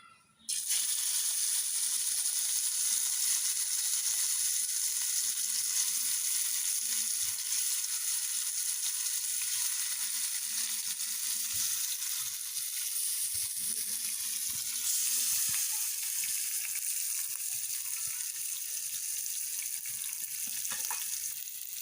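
Spice-coated fish frying in hot oil in a wok for a mustard paturi dish, a loud, continuous sizzle and hiss close up, steady throughout with slight shifts as the pieces settle.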